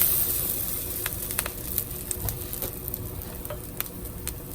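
A gordita fries in a pan with a steady, close hiss of oil, dotted with scattered small crackles and pops, and no talking.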